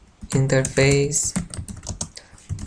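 Rapid keystrokes on a computer keyboard while commands are entered to configure a network interface in Cisco Packet Tracer, clattering close and clear with a voice speaking over part of it.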